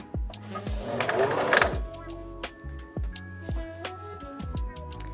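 A Janome HD5000 sewing machine stitches fabric in short bursts of rapid mechanical whirring, with pauses and clicks between runs as it backstitches, close and clear.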